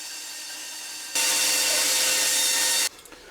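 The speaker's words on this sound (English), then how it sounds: "I'll draw and bandsaw that around." A bandsaw cuts through a wooden pattern block in one steady, loud rasping pass of nearly two seconds, with a quieter motor hum before and after the cut.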